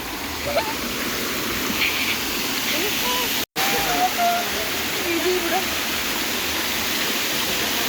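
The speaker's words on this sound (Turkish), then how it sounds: "Bakın burada su var." Water flows steadily outdoors in a broad, rushing hiss, close and continuous. Voices talk over it and there is a brief dropout midway.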